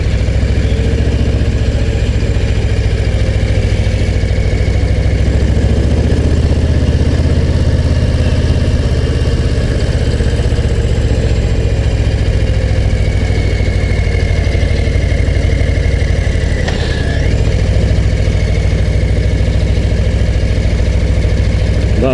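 A Harley-Davidson Low Rider ST motorcycle engine rumbles steadily and loudly throughout, a deep continuous drone with faint wind rush, as if heard from the saddle while riding.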